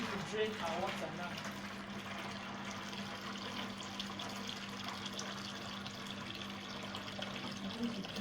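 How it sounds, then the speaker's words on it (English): A Sharpgold 5kg mini washing machine drains its water in a steady, continuous wash of flowing liquid with a low hum beneath, holding fairly even throughout at moderate level. "I'm going to drain our water now."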